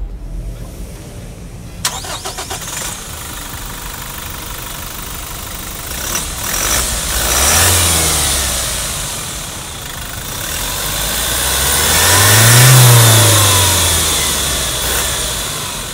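A Toyota Innova Venturer turbo diesel engine cranks and starts, settles into an idle, then revs up twice in long rising and falling swells, loud and close.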